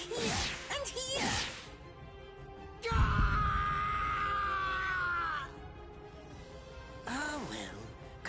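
A man screams in pain in the video game Bleach: Rebirth of Souls, a long, loud, strained cry lasting a few seconds, set between stretches of someone talking.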